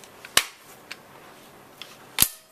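A gun at an outdoor shooting range fires two loud, close shots about two seconds apart, with faint background noise and small knocks between them.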